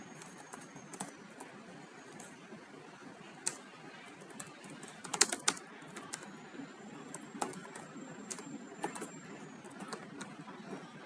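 Computer keyboard typing in a quiet room while writing Excel VBA code, with soft irregular clicks and a brief cluster of sharper, louder keystrokes midway, no voices.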